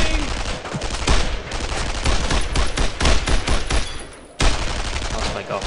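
Rapid gunfire and repeated shots fill a World War II battle in Brothers in Arms: Road to Hill 30, a dense, loud barrage with a brief lull before the shooting resumes.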